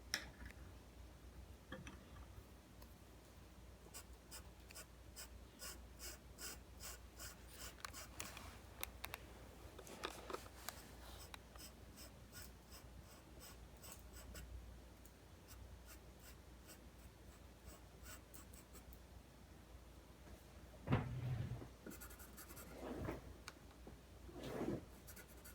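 Pastel pencil shading on paper while adding shadows around drawn details, a steady soft scratching and rubbing of the pencil tip with short bursts of strokes, close and quiet, with no talking.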